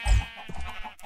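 A sheep bleats in Minecraft while animals are being moved on a farm in the FTB Ultimate modpack, a short near bleat with a low thump at its start, alone without talk.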